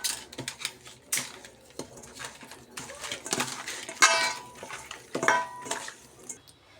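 Snakehead fish being mixed by hand with salt and turmeric powder in a dish, giving irregular light clinks, taps and wet scrapes against the bowl, close and fairly quiet, with no talking.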